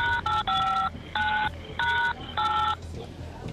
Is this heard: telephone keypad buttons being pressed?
yes